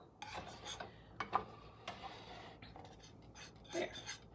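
A spoon scrapes and drags through a thick, stiff Nanaimo bar mixture in a bowl, producing irregular close rasping strokes with brief clinks against the bowl, fairly quiet with pauses between strokes.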